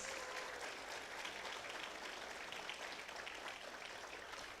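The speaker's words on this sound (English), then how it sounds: "We have a big round of applause for them, please." Steady, dense applause from a crowd at a Bharatanatyam dance debut performance, continuous and fairly loud throughout with no pauses.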